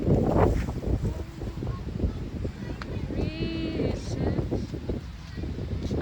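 Strong wind gusts buffet the microphone beside a lake, a steady rough rumble throughout, with a faint whistling tone and a voice murmuring briefly beneath it.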